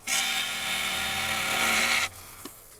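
A woodturning gouge cutting a figured English walnut bowl on a lathe for bulk removal gives a loud, steady, rough tearing whir for about two seconds, then stops abruptly, leaving a faint click.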